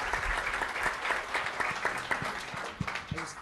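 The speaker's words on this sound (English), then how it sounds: "I think we should give a round of applause to our farmers." Applause from an audience at a webcast event on farming and feeding a warmer world, moderately loud with individual claps standing out from the crowd, continuing steadily without speech.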